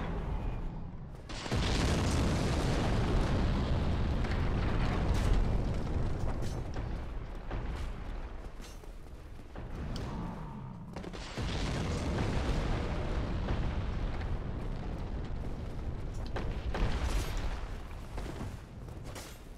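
Booming explosions sound in Dark Souls, with deep, rumbling blasts that roll on in long, heavy waves and briefly drop away before the rumbling returns.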